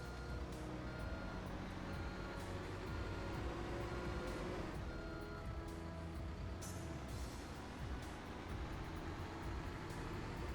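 A truck in Construction Simulator 3 sounds its reversing alarm, steady repeated beeps over a continuous low engine drone on a construction site, heard at a fairly faint level.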